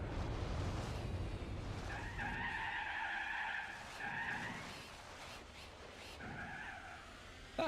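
Race car tires skid and squeal in Gran Turismo 4 at Laguna Seca, driven without brakes or handbrake: sustained tonal screeches in several bursts over a steady engine drone, no talk.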